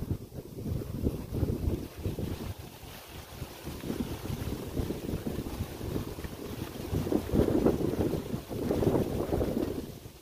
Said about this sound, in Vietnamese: Trời gió luôn cả nhà